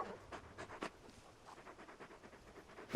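Torgal, a very large dog in the Final Fantasy XVI video game, pants in quick rhythmic breaths with a soft whimpering edge. The sound is faint and steady, with no talk over it.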